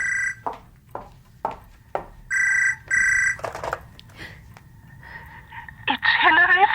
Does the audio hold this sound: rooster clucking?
no